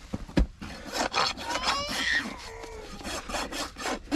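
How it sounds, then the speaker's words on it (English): A farrier's rasp working a horse's hoof while shoeing, a run of rough, rhythmic scraping strokes up close with a sharp knock near the start. "And clean it up with my rasp."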